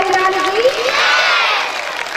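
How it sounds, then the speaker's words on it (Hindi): An audience at a Hindu religious discourse on the Krishna story claps and cheers in a loud, sustained burst, with a sung or chanted voice over the crowd. "ताली बजा दी"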